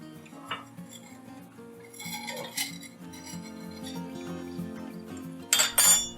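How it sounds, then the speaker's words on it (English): Metal knife scraping and tapping around the edge of a crepe in a pan, soft rubs and small clinks that end in a louder cluster of sharp metallic clinks, close and with no voices. "Use a knife to test whether the edges can be lifted."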